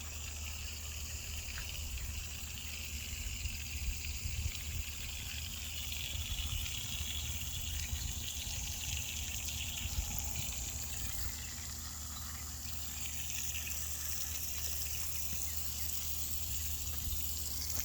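Water from a drip irrigation hose in a raised garden bed trickles and sputters steadily, a soft, continuous gurgle with a low hum underneath.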